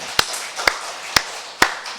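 A church congregation claps in unison during a Sunday worship service. Four sharp, evenly spaced claps land about half a second apart over a quiet room.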